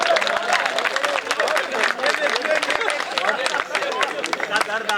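An audience applauds at a kavi sammelan poetry recital, a dense, lively burst of clapping mixed with crowd chatter and a voice speaking over it.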